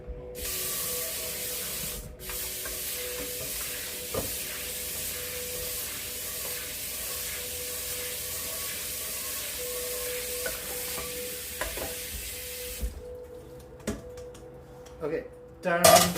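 A non-stick pan being washed under running water in a home kitchen: a steady hiss of spraying water for about thirteen seconds, then it stops, leaving faint clinks and handling noises.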